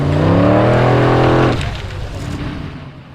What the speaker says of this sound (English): he, like the others in this class, drives an old Willys Jeep